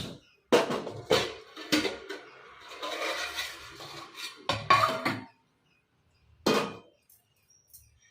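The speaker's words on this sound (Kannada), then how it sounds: "ಈ ಪಾತ್ರೆ ಇಟ್ಕೊತಾ ಇದ್ದೀನಿ ಬಾಣಲಿ ಕಡೆ ಯಾಕಂದ್ರೆ ಫ್ರೈ ಮಾಡಕ್ ಚೆನ್ನಾಗಿರುತ್ತೆ" An iron kadai is set down and handled on the stove for frying drumstick pods, giving a few sharp metallic clanks and scraping rubs with quiet gaps between them.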